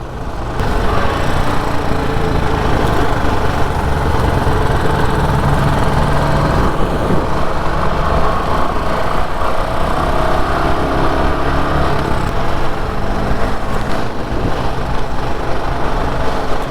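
A Royal Enfield 350 Bullet motorcycle engine runs loud and close in a steady, continuous rumbling thump, with wind noise and no clear talking over it.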